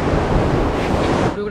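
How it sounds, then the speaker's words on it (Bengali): Strong wind blows on a seaside beach, roaring steadily across the microphone with surf mixed in, then drops off abruptly at the end. "ও এখানে যা হাওয়া দিচ্ছে না"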